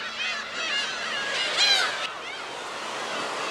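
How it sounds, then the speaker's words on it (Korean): Black-tailed gulls in a flock call over one another near a coastal fence line, a steady chorus of honking, mewing cries with surf and wind washing underneath. "해안 철책선에도 괭이 갈매기 떼가 모여있다."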